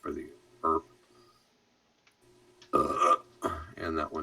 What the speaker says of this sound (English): Oh, pardon for the burp.